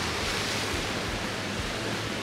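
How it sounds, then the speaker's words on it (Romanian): Rough Atlantic surf on a wild sea off the coast of Tenerife roars as a steady, dense wash of crashing water, loud and continuous with wind buffeting the microphone and no voices. "Că sunt valuri faine. E prea sălbatică marea."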